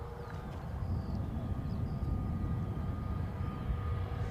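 An airBaltic Airbus A220-300 jet at Edinburgh airport gives a moderate, steady low engine rumble that builds slightly and holds, with faint distant whines above and no talking.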